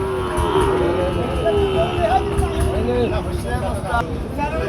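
Calves mooing at a busy cattle market in Pabna, several overlapping bleating moos rising over a steady crowd murmur and general market din throughout.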